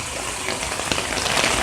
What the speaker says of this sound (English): The roof is gathering the rain, coming down from the roof, and it's going into here